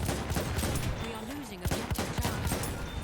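PP gunfire in Battlefield 1: rapid bursts and scattered shots crackle in close-quarters combat, mixed with other game noise and someone talking over the action.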